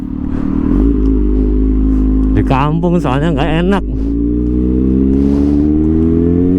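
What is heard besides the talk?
Kawasaki ZX6R motorcycle engine revving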